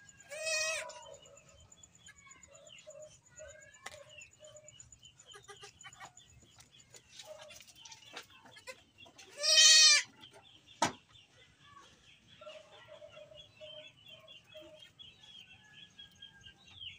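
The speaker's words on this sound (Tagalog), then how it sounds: "Medyo mahihiyain yung mga kambing." Goats, among them young kids, let out a few bleats: a strong cry at the start and a loud, close one midway, separated by quieter bird calls and a sharp knock, with a steady high tone underneath.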